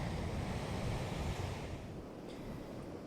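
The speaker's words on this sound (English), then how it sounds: "Got some water crashing up against the rocks." Waves crash and wash against rocks on a beach, a steady, broad roar of surf that eases slightly toward the end, with no voices.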